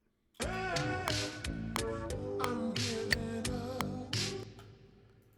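Music with a steady beat, a sharp click landing on each pulse like a metronome keeping time throughout the passage.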